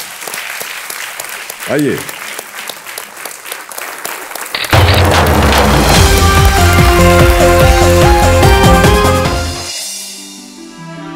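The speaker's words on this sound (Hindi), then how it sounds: "तालियां बजती रहे योगेश जी के लिए" A studio audience on the Kaun Banega Crorepati game show claps continuously under a host's brief spoken line, then loud show music swells in and covers the applause.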